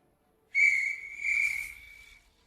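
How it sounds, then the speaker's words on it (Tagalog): A single high, clear whistle sounds, holding a pure tone for over a second with a slight waver before fading out into quiet. "Parang may narinig akong sipol."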